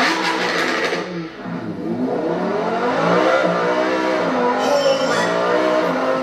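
A Lamborghini V10 supercar revs hard close by, its exhaust note climbing and falling in several rising sweeps with a brief dip before surging again, loud and unaccompanied by talk.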